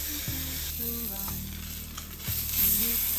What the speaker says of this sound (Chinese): 把鱼肉的每一面都煎上色。